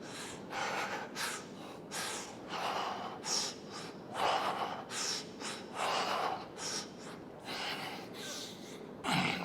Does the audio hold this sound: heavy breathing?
yes